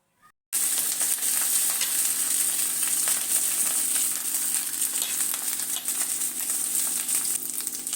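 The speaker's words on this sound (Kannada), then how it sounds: "ಮೊದಲೇ ಅನ್ನನ ಉದ್ರುದ್ರಾಗಿ ಮಾಡಿಟ್ಕೊಂಡಿರೋ ಅನ್ನನ ಈಗ ಮಿಕ್ಸ್ ಮಾಡ್ಕೊಳ್ಳೋಣ" Cooked rice being stirred and mixed in a pan, a steady close scraping and light sizzling that runs continuously after a brief silent start, with no talking.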